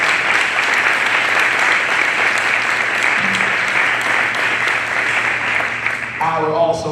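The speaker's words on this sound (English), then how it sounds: "Let's give another round of applause for Damien Jiggets and the Peter Paul team." Audience at a city announcement of expanded after-school programs applauds loudly and continuously, a thick wash of clapping with some voices underneath.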